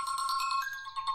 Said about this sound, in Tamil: ஃபோன் அடிக்குதுல, எடுத்துட்டு வாயேன்